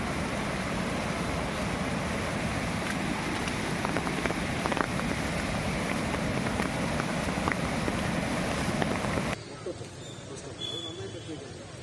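Heavy monsoon rain in Kollam district, Kerala, pours down in a dense, steady roar with muffled voices underneath, then cuts abruptly to a much quieter background near the end.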